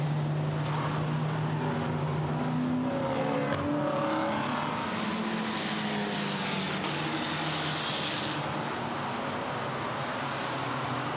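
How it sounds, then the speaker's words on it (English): GT4 race cars at Misano circuit during Race 2 of the 2015 GT4 European Series, a steady loud engine drone with rising and falling tones as several cars pass onto the back straight, with no talking. "four of those cars come out onto the back straight"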